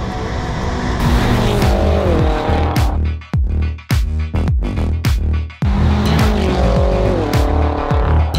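A rebuilt BMW M5's engine roars loudly, revving hard through several rapid gear shifts as it accelerates fast, with brief lifts between pulls.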